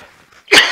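A single sharp cough from a person indoors, close to the microphone and loud, coming after a brief moment of quiet.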